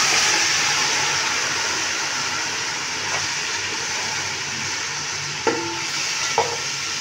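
Chicken stirred into frying pulao in a pot, a continuous loud sizzle with scraping stir sounds and a couple of sharp utensil clinks near the end, close up and without speech.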